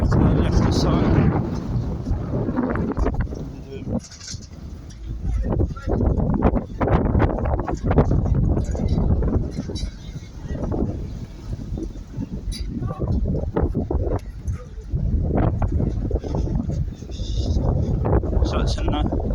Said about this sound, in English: It's about 45 mile per hour wind from the north